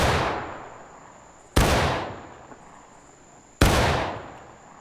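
Three loud musket volleys crack out in the War of Rights Civil War game, each a sharp burst with a long rolling echo that fades before the next, spaced about two seconds apart, no voices.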